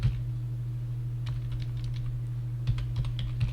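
Keys clatter on a computer keyboard during accounting data entry, a steady run of light clicks with a few louder taps near the start and end over a constant low electrical hum.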